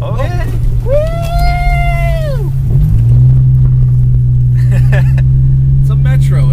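A cheap Metro car drives on snow and ice, its small engine a steady low rumble that shifts pitch partway through, heard under excited voices talking and whooping.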